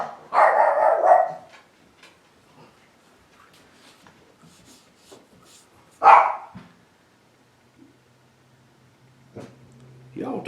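Dogs barking in a workshop where a fillet knife sheath is being made, two loud close barks separated by a long quiet stretch with faint background noise and some low speech.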